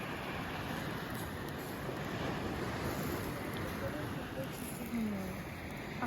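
Waves wash steadily onto the Baltic Sea shore in Denmark at sunset, a continuous broadband surf hiss with wind buffeting the microphone throughout, no distinct individual breakers standing out.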